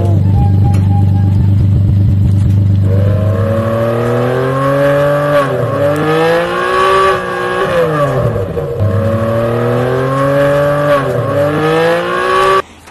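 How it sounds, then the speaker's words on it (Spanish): A latest-model Ferrari engine starts and revs: a loud low idle rises into a roaring, sweeping rev that climbs and falls several times, close and continuous throughout. "Primer paso, encender el Ferrari de último modelo."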